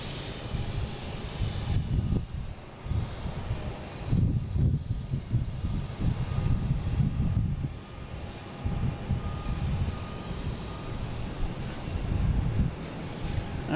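Airbus A330 airliners at Boston Logan International Airport, a loud steady jet engine roar with gusty wind buffeting the microphone, surging and easing over several seconds.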